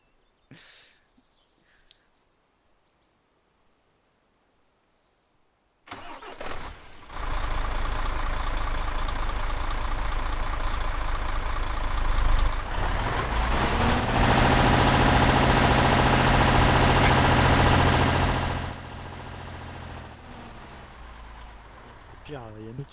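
Military truck engine in a Takistan patrol mission of a war video game: clicks, then the engine starts and idles with a loud low rumble that swells and eases near the end.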